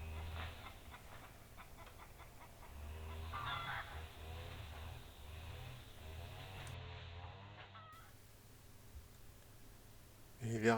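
Chickens and a rooster clucking and calling close by in a garden, poking around freshly cut grass near the ground, with soft murmured clucks throughout and a sharper sound at the end.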